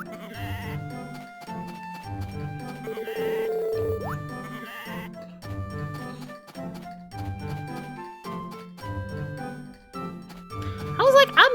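Sheep bleat repeatedly in a run of loud, close calls spaced about a second apart, with a faint tinkling near the end.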